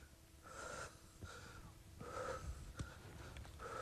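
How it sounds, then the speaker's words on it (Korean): Heavy, labored breathing of a person climbing a mountain with a large backpack: repeated wheezing gasps and panting breaths in an uneven rhythm, close and fairly quiet. "헉헉대는 소리만 가득하다."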